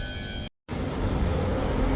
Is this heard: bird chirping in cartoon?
no